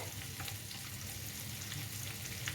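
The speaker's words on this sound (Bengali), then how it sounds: "এই যে ডিমগুলো আমি ভাজতে বসিয়ে দিয়েছিলাম ডিমগুলো একটা সাইড ভাজা হয়ে গেছে উল্টে দিলাম এগুলোকে" Eggs frying in oil in a pan after being flipped, a faint, steady low sizzle with a few soft crackles and no talking.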